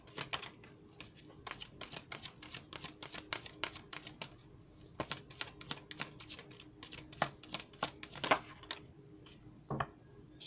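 Tarot cards are shuffled and drawn close up: a rapid run of crisp, papery riffles and snaps, grouped in irregular bursts with brief pauses between them.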